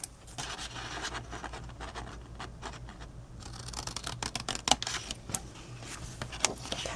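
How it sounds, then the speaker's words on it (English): Paper cut along a score line while making a Halloween door hanger treat box, heard as faint close scratching and rubbing strokes with a few sharper snips, quiet and alone. "Going to go in, cut on this score line to meet up with the next."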